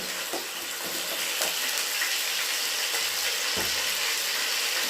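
Ginger and garlic fry in hot coconut oil with a steady, dense sizzle and crackle, loud and close, with a few soft stirring knocks and no voices.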